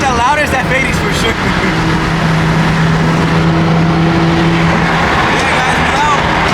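A BMW M3 engine drones loudly and steadily at a car meet, with a sustained throaty hum holding through the clip while voices talk over it nearby.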